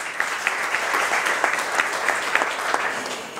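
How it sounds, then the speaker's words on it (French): An audience applauds guests being introduced at an arts and culture event, a continuous wash of clapping with a few sharper individual claps standing out. "directeur général d'Omaiprod, Reda Albradi, sous vos applaudissements"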